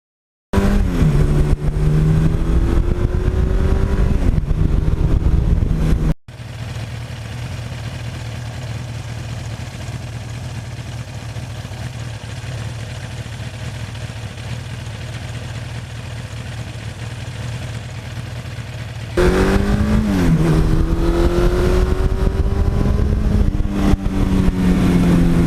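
A 1982 Suzuki GS1100E motorcycle engine revs hard at close range, climbs and falls with its pitch swinging, then settles to a steady, loud idle for a long stretch before revving up sharply again.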